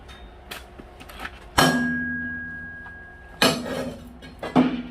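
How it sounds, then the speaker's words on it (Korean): A hammer strikes a metal part of a wood-burning stove, two hard clanging blows that ring out with a sustained metallic tone and decay slowly, among a few lighter clinks and taps, close and loud. "망치로 때리면 떨어지겠다"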